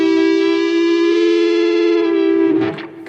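Electric guitar played through a NUX MG30 multi-effects unit, a sustained distorted note with chorus-like wavering and audible glitchy artifacts, ending in a brief scratchy burst as the note cuts off.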